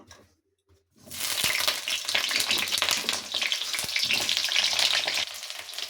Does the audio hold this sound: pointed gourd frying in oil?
yes